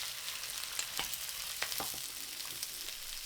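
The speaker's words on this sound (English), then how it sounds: "Briefly stir and add the onions" Onions hit hot butter and vegetable oil over high heat, a soft continuous sizzle broken by a few quick utensil stirs, fairly quiet and close, with no voices.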